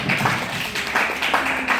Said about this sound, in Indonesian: kita beri tepuk tangan untuk kelompok 1 ya